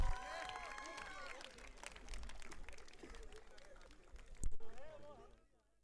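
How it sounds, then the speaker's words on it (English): A ceremony audience claps at a Model United Nations closing as someone walks up to the stage, a moderate spread of applause with crowd babble and voices over it, swelling briefly near the end before dying away. "can you please have the applause rolling as Ma makes her way up to the stage"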